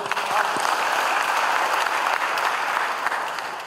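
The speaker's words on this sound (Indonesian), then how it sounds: "Tepuk tangan dulu" Sustained applause from an audience at a formal inauguration ceremony for a Jakarta organisation, dense and steady throughout before easing slightly at the end.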